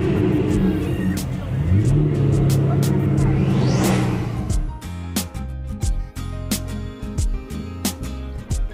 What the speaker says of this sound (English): It's got a 502 large block, automatic transmission.